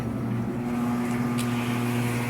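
A washing machine starting its spin cycle during a repair test with water inside, a steady low motor hum with tonal drone and a brief higher whir partway through, no talking.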